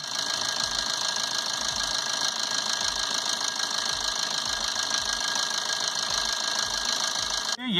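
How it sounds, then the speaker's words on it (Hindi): A steady, close engine of a 2009 Maruti Suzuki Swift Dzire with about 136,000 km runs evenly after starting, with a constant hum and faint regular knocking, holding level throughout until a brief change at the very end. "इसका इंजन का साउंड सुनते हैं"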